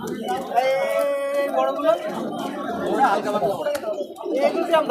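Kaldam pigeons coo at a busy pigeon market, their soft, throaty calls mixed into steady crowd chatter and nearby voices throughout.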